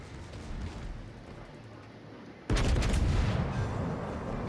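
Heavy battleship gunfire in the naval game World of Warships Legends, the German premium battleship Anhalt, breaks in as a sudden loud boom halfway through, leaving a sustained roaring rumble after a quieter stretch of ambient engine and sea noise.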